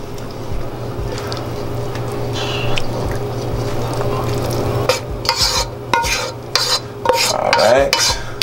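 Homemade sea moss gel is scraped out of a container with a utensil, making repeated close scraping strokes and wet, squishy smacks that grow busier toward the end, with no speech.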